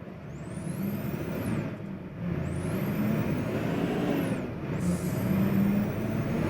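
Brakes on a Mercedes 2232 truck in Euro Truck Simulator 2 give repeated high sweeping squeals and air hiss over a steady low engine rumble, recurring a few times with no talking.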